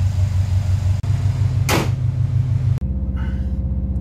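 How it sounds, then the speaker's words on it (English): A turbocharged car fitted with a GFB dual port blow-off valve, its engine droning steadily, lets out one short, sharp rushing whoosh of venting air midway before the engine note carries on, with no talk. "Now we're going to build some boost and see how the dual port blow-off valve reacts."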